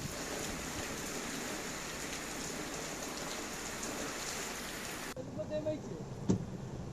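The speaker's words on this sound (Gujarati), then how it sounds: "મોરબી માળિયા હાઈવે પર વરસાદ." Rain falling steadily on the Morbi-Maliya highway, a dense even hiss that cuts off abruptly near the end, where faint voices and a brief knock follow.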